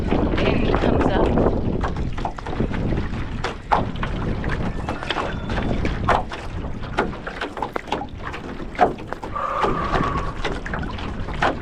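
Gusty wind buffets the microphone while someone rows outdoors, a steady rushing roar broken by irregular knocks and splashes of the stroke, close and fairly loud throughout.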